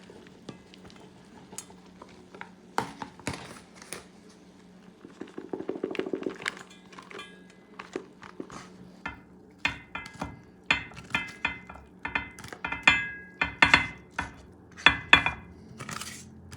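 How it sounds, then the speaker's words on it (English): Duck and rice mixture for Portuguese arroz de pato being stirred in a pan, with a spoon scraping and knocking against the metal in irregular clinks and soft sizzling, close and clear. "Mixing up the meat."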